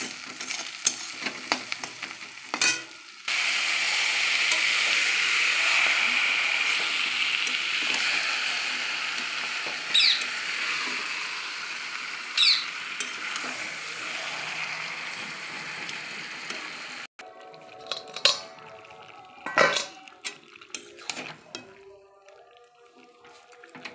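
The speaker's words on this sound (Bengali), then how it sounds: "পেঁয়াজটা ভাজা হয়ে গেছে, এবার আমি মাংসটা ঢেলে দেবো।" Meat tipped into a pan of fried onions, giving a loud steady sizzle with scraping stir strokes, then a sharp cut to quieter clattering and stirring near the end.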